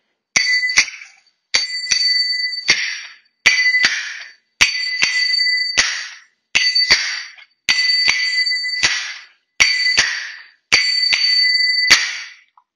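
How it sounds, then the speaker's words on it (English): Metal finger cymbals ring out in a repeated belly dance rhythm, with bright clinks in groups of a few strikes separated by short pauses, each ring decaying; close, clear and unaccompanied. "It'll sound like this on the finger cymbals."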